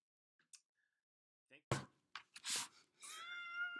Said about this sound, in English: This is my cat Olive